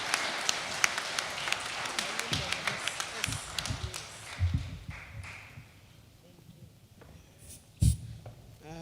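An audience at a South African government launch event claps for a speaker, starting as brisk scattered clapping and thinning out to a few sparse claps.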